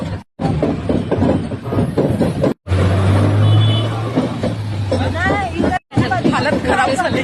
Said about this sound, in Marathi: मी आता फुल ट्रॅफिक जाम आहे.